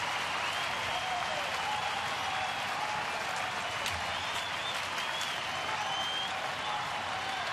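A sellout baseball stadium crowd cheers and applauds at a Detroit Tigers game against Cleveland, a dense, steady roar that stays loud and unbroken throughout.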